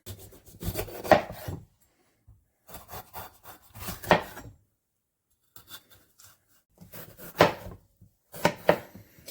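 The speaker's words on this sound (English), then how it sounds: "I'll cut one up to show you what the general size is for that" Vegetables chopped into chunks for a beef stir fry, a knife cutting through in four bursts of rapid close chops and slicing rasps on a board, separated by short pauses.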